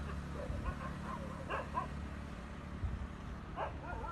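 Dogs outdoors at night bark and yip in short, scattered bursts at moderate distance over a low background hum, with no one speaking.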